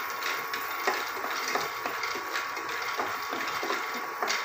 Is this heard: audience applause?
no